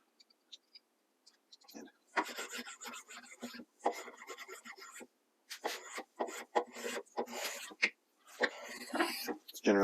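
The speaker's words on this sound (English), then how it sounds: "I'm just going to use my spoke shave again to fair the surface and make sure I get all of the bandsaw marks off" Spokeshave fairing and pillowing the edges of a wooden ladderback chair front leg, taking light passes to remove bandsaw marks: close, dry rasping strokes in short repeated bursts with brief pauses between them.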